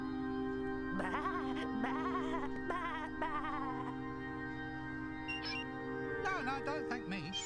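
Sheep in the Discworld 2 video game bleats several times in short wavering calls, clear and close, over a steady droning hum and ticking background.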